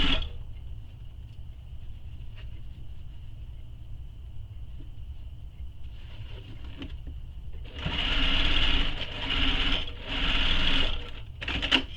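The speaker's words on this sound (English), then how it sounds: "I'm just stitching right along beside it." A sewing machine stitches a messenger bag with a steady motor whir. It runs quietly at first, then surges into three louder, faster bursts of stitching near the end. A few small handling clicks fall in between.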